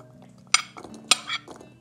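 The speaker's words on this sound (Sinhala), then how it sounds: "දැන් මේ විදිහට මම කොටුවට කපාගත්ත මේ පළතුරු සහ එළවලු ටික මේ භාජනයට එකින් එක එකතු කර ගන්නවා" Chopped fruit and vegetable pieces such as carrot dropped one at a time into a bowl, giving two or three light clinks and knocks against the dish in a quiet kitchen.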